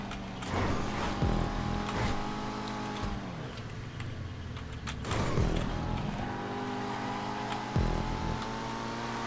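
Race cars in a Halloween-themed GTA stunt race roar and rev with harmonic engine whines, rising and falling as they accelerate and pass, with a brief tire squeal, loud and continuous without talk.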